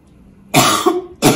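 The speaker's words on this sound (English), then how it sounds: "We ask that you do 10 deep breaths, followed by 3 coughs every hour that you're awake" Two harsh coughs from a hip replacement patient doing a breathing and coughing exercise, close and loud, the first longer with a rough tail, the second short and abrupt after a brief pause.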